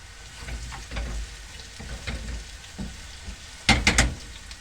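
Garlic frying in a pan on the stove for an okra and molokhia dish, a steady soft sizzle and crackle with a few louder bursts of spitting near the end, heard close up with no talk.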